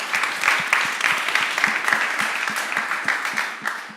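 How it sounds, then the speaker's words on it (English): Youth climate summit participants clap for themselves, a fairly close group whose distinct hand claps overlap in a brisk, continuous patter that holds steady, then eases slightly toward the end. "Please clap hands for yourselves for an amazing job you did yesterday."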